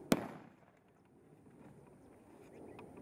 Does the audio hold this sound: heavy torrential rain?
no